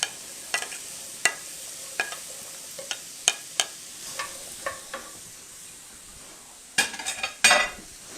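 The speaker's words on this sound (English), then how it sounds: "Now we're just going to saute these so they get nice and soft till those onions get kind of translucent" Mushrooms and yellow onion sautéing in a pan, with a quiet sizzle under a series of sharp spoon or spatula clicks against the pan as they are stirred, a busier clatter of scraping near the end.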